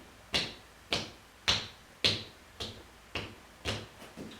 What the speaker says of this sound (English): And then we're going to clap the top of the feet.